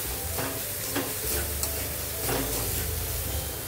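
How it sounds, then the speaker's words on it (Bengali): Cumin and coriander powder frying in a pan for an aloo paratha filling, a soft continuous sizzle with a few brief scraping stirs under a low steady hum, close and quiet, no voices. "আর দেব আধা চামচ আমি জিরের গুঁড়ো দিয়ে দিলাম। দিয়ে ভালো করে এটা ভেজে নেবো"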